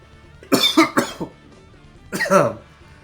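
Close, loud coughing in two short bouts, a quick cluster of harsh coughs followed after a pause by another rough cough.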